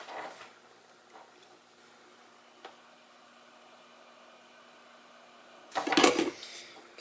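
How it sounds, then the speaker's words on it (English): A heat gun shrinking heat-shrink tubing over drone motor wires on a Raptor210 build with Hyperlite V4 motors, heard as a low steady airy hum with faint taps, then a loud blowing roar near the end. "now let's pull these down and heat shrink"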